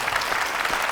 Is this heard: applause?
yes